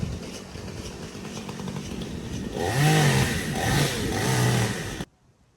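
A chainsaw cuts through storm-fallen debris blocking a waterway, idling at first and then revving hard into a loud, close cut with several pitch surges before stopping abruptly.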